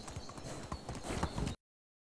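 Horse hooves clip-clopping in the medieval life-sim video game Medieval Dynasty, a steady rhythmic trot of close, fairly loud hoofbeats that stops abruptly.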